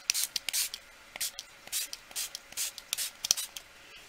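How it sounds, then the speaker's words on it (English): Spray bottle misting water onto a painted mixed-media mermaid box, a rapid series of short, sharp pumps in an irregular rhythm, close and fairly quiet. "I'm going to spray it with a little bit of water."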